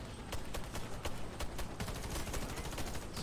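Rapid shotgun fire from the medic class in the online shooter Warface on Xbox One, a dense run of loud blasts and clatter packed across the whole stretch with no gaps, no talking over it.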